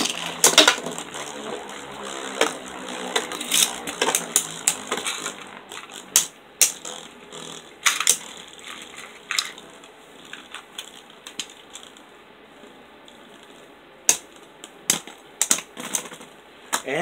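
Beyblade Burst tops, Boom Khalzar and Surge Xcalius, spin and clash in a stadium, giving a steady high whirring with sharp metallic clicks and knocks scattered irregularly over it.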